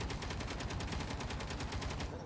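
Rapid, evenly spaced bursts of automatic gunfire from a ship-salvage space game rattle on steadily and loudly, a continuous volley with no talking over it.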